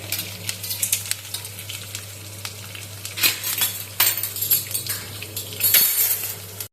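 Ginger frying in a pan for South Indian rice rava upma sizzles steadily, with a spoon scraping and clinking against the pan in irregular bursts over a low hum.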